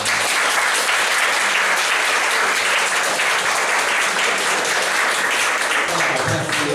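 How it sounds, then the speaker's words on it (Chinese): A crowd gives two performers a warm, sustained round of applause, loud and continuous from start to finish with no pause. "请大家再给他们两位热烈的掌声"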